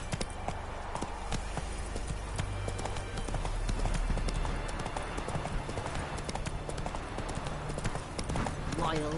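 Horse hooves clip-clop at a rapid gallop in the video game The Witcher 3, a steady close rhythm running throughout with a voice speaking over it.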